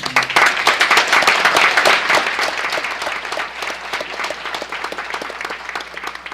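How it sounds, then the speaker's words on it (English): A school committee audience claps for award recipients, a dense sustained burst of applause that is loud at first and then eases slightly while staying steady throughout. "So I just want to give all the recipients another round of applause for them."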